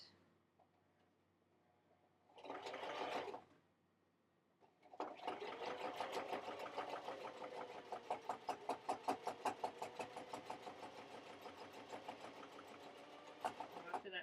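A sewing machine stitches a fabric seam, starting with a short burst, pausing, then running in a fast rhythmic chatter of needle strokes, close and fairly quiet.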